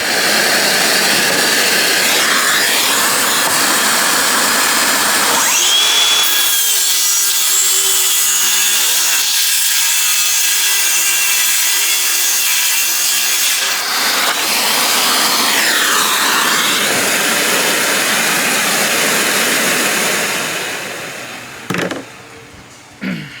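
A DeWalt circular saw fitted with dust collection screams through two long, loud cuts, with a quieter whirring lull between them, then winds down and ends with a couple of brief knocks.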